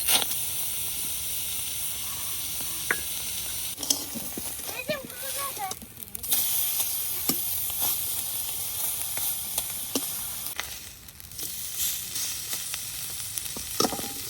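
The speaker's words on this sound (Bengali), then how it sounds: "সব শেষে এখন শীতলগুলা ভেজে নিলাম।" Pieces of sidol, fermented fish paste, frying in hot oil give a steady close sizzle throughout, with occasional clinks and stirring noises on top.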